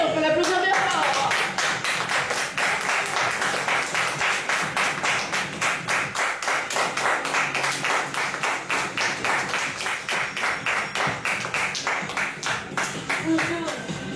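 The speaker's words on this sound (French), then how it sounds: "on peut l'applaudir bien fort" Theatre audience applause during a French stage play, steady rhythmic clapping from many hands that swells and holds for over ten seconds, with a voice speaking briefly at the start.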